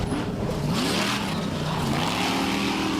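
A desert off-road race truck engine revs hard and rises in pitch, then the throttle drops off and climbs again, loud and continuous with no talking.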